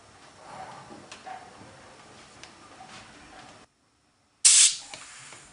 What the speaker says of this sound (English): supply compressed air